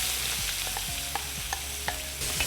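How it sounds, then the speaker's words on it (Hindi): Finely chopped onion frying in hot oil with bay leaf, cumin, cinnamon, cardamom and cloves for paneer tikka masala: a close, even sizzle punctuated by several quick stirring scrapes, without any voices. "इसके अंदर हम डालेंगे बारीक कटा हुआ प्याज।"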